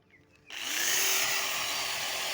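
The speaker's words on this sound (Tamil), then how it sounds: "இது வந்து ட்ரில்லிங் மிஷினு." A drilling machine fitted with a circular brush for polishing wood starts up after a moment of quiet, spinning up into a loud, steady whirring hum that holds evenly to the end.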